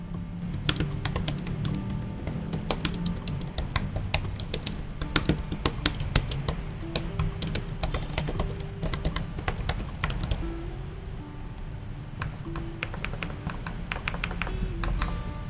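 Rapid, continuous typing on the keyboard of an Advan Evo X 2-in-1 laptop, crisp close-up key clicks in steady runs with brief pauses throughout.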